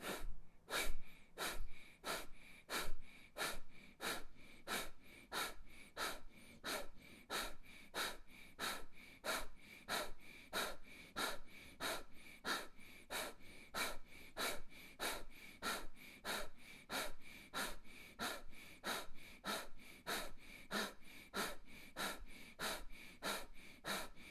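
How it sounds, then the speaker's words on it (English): Rapid, forceful rhythmic breaths during a breathing practice session, a steady train of sharp close exhales pulsing about twice per second for the whole stretch, with no talk. "Breathing in slightly."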